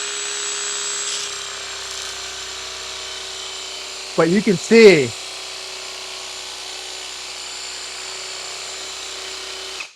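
A Rotopower pressure washer driven by a more powerful cordless drill on the siphon hums in a steady high whine throughout, with a brief spoken phrase cutting in near the middle.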